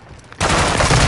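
Automatic gunfire on Ashika Island in Call of Duty breaks out abruptly after a quiet moment, then continues as a loud, dense rattle of rapid shots to the end.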